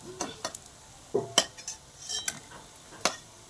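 Fried noodle-potato snacks lifted out of a hot pan, with scattered clinks of a utensil against the pan and a few soft scrapes over a faint sizzle, close and intermittent.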